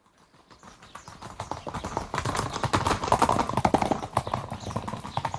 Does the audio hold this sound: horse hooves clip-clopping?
yes